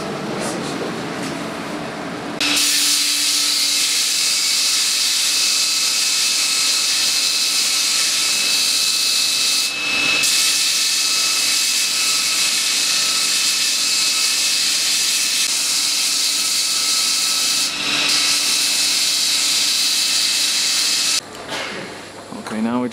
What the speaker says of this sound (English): Now we're just going to bevel off the edges.